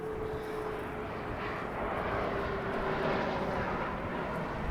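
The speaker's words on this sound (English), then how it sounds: "There is a plane." An airplane flies overhead with a continuous broad engine roar that swells slightly toward the end, steady and fairly distant, with no talking.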